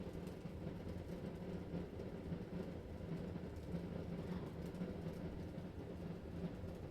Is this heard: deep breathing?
no